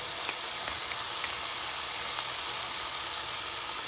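Peppered bacon sizzling in a pan, a steady close hiss with light crackling pops throughout, no talking.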